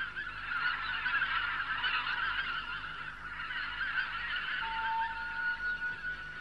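Birds calling in a mountain forest, a dense flock of goose-like honking and chattering, steady and fairly loud, with no voices over it.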